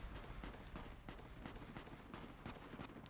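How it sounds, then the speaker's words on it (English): Faint, distant gunfire in Fallout: New Vegas cracks out in a steady series of shots, roughly three per second, over a low background rumble, as the NCR fights the Legion at a raided farmstead. "That's a lot of gunfire."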